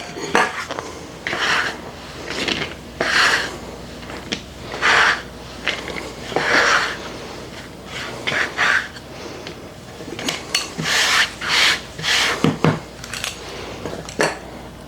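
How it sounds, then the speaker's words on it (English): Knife cutting dumpling dough into squares on a mat, a series of repeated scraping and tapping cuts in uneven bursts, close and fairly loud, with short pauses between strokes. "I'm just going to repeat until all the dough is cut into dumplings"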